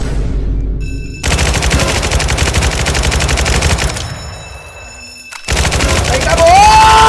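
Rapid automatic gunfire rattles in the Roblox game Jailbreak, loud, close and sustained, in two long bursts separated by a short quieter gap with a brief tone.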